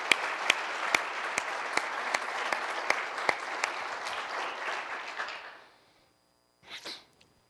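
Audience applause at a SOSA 2015 gathering in Reno, dense steady clapping with a few sharp louder claps standing out, fading out after about five seconds, followed by a short faint noise.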